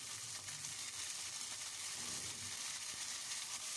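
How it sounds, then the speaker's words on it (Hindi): Ginger garlic paste frying in a hot pan, a steady broadband sizzle that holds evenly throughout with faint stirring scrapes underneath, close and continuous with no voices. "अब इसको 2 से 3 मिनट के लिए अच्छी तरह से फ्राई कर लूँगी।"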